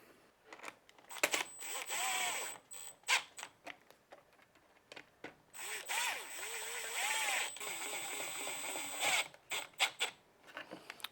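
A ratchet tightens the bolts of a carbon fiber license plate kit on a Harley-Davidson Softail, producing close, rapid clicking bursts with short gaps between them, loud against a quiet background.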